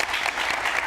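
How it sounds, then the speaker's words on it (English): Audience applause at a personal stories panel, a short burst of steady clapping from a room of people, moderately distant and soft. "So applause to you guys for being here."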